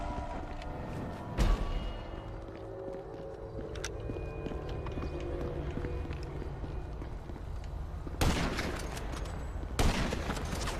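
Sniper rifle shots ring out in GTA 5 Online, with a few sharp, loud cracks spaced several seconds apart over a continuous background of game ambience.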